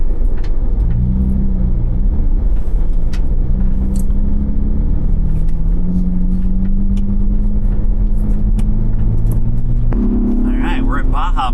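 A Ford Bronco Raptor in Baja Mode drives through fresh snow, its engine a steady close rumble that rises in pitch near the end as it revs, with people talking over it throughout.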